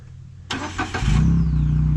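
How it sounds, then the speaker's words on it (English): A car passing along a farm road near newly arrived cattle, a sudden loud broadband whoosh that builds into a steady engine rumble as it goes close by, with no talk. "Car went by, almost took one of them out."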